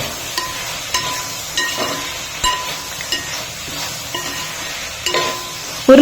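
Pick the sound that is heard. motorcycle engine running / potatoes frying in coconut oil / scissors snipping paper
potatoes frying in coconut oil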